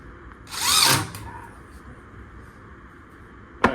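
A power drill drives a screw into a wall stud in one short, loud burst of about half a second, then stops. A faint click follows near the end.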